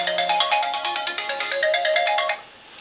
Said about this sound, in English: that's my alarm going off to tell me to come check on my turkey.